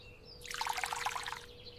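Water is poured onto a small green plant, a brief bubbly trickle that rises and fades within about a second, fairly quiet and alone.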